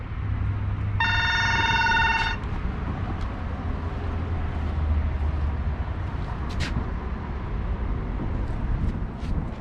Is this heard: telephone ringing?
yes